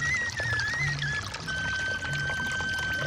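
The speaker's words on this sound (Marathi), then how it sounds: "कंटिन्यू 24 तास पाणी वाहते" Natural spring water flowing continuously, a steady close rushing pour with a constant watery wash throughout, loud and unbroken, with no talk.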